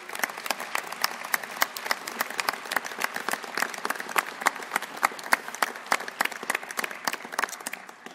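Sustained applause fills a hall as a New Year's wishes ceremony crowd claps for Savigny-le-Temple's town employees, many hands beating in a thick, even patter for several seconds without any talking.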